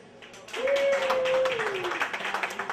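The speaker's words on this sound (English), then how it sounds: "Clap your hands." Audience at a comedy show clapping their hands, a dense, moderately loud patter that swells and continues under a held vocal tone and crowd noise.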